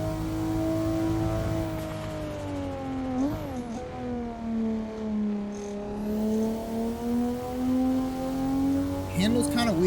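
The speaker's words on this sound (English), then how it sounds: "We are just riding the rev limiter now." A modded car's engine holds steady near the rev limiter in a driving game on the Shutoko Expressway, with a loud sustained drone that wavers slightly over ten seconds and ends with a brief tire squeal.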